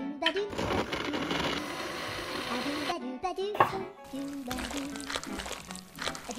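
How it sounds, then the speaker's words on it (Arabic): A kitchen blender whirs through cooked beetroot and oil, a close motor hum that stops and restarts in uneven bursts, with some voice-like sound over it. "بعدها نضعه في وعاء الخلاط مع الزيت ثم نخلطه جيداً."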